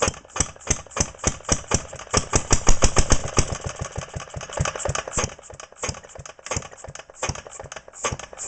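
A 3 HP Tecumseh open-crank engine runs with a loud, close, rapid and slightly uneven chuffing beat, firing steadily throughout before faltering a little toward the end.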